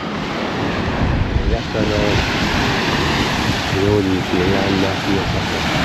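Sea waves wash onto a shore strewn with seaweed in a steady, loud rush, with strong wind noise on the microphone and someone speaking over it.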